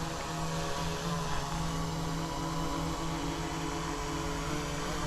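An Autel EVO 2 drone hovering and shifting its position during an automatic precision landing, its propellers giving a loud, steady whine and buzz that stays constant throughout, with no talking.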